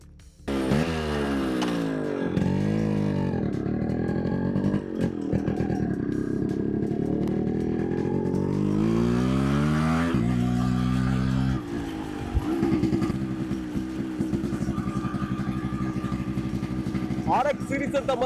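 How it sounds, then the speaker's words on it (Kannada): A Yamaha RX 135 two-stroke, four-speed motorcycle is ridden, its loud nearby engine rising and falling in pitch through gear changes and revs, with a rider talking over it. "ಸೊ ಬನ್ನಿ ಗಾಡಿ ಹೇಗಿದೆ ಅಂತ ಒಂದು ರೈಡ್ ಮಾಡಿ ನೋಡೋಣ"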